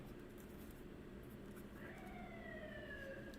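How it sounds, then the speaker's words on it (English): A faint siren wails in the distance, its tone rising and falling over a steady background hum. "With the sirens going on in the background, that would be confirmation."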